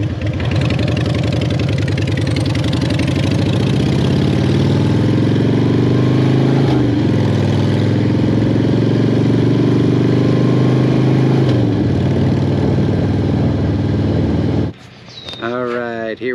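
A motorcycle nicknamed Slimbo, running on ethanol-blended unleaded gas, idles with a steady, loud low rumble for most of the clip before cutting off, followed by a person talking.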